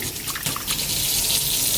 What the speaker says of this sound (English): you just put some water on here